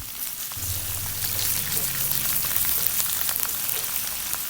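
Garlic and ginger paste frying in hot oil for Punjabi namkeen gosht, a steady bright sizzle and crackle that swells slightly as the paste is stirred, with a low hum beneath near the start.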